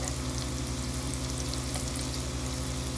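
Breaded pork loin frying in a pan of oil, a steady even sizzle with a faint low hum underneath, constant and close throughout with no voices.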